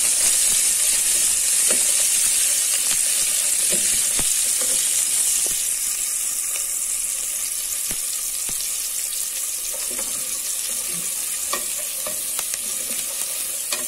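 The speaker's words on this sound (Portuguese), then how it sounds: "Dourar um pouquinho a cebola" Onion browning in a pan with garlic for beef stroganoff, a bright steady sizzle broken by scattered clicks and scrapes of a spoon stirring, heard close and alone.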